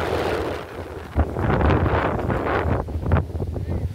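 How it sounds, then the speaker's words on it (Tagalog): Strong gusty wind buffets the microphone in loud, roaring bursts, rising and falling over a few seconds. "Lakas ng hangin."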